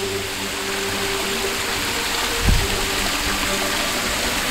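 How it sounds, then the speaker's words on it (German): An illuminated artificial waterfall splashing down a rock wall at night at a cave-themed beach resort in Hurghada, Egypt: a continuous broadband rush of falling water with a low thump partway through. "hinter mir seht ihr einen von mehreren beleuchteten Wasserfällen, die natürlich eine Felswand runterplätschern"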